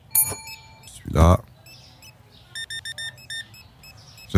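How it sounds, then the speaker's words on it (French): Short electronic checkout scanner beeps from the video game Supermarket Simulator sound in a quick series of bright bleeps, with a voice talking and other game noises. "J'aime bien, ça bip de partout, j'adore ça. J'adore ce bruit-là, ça bip."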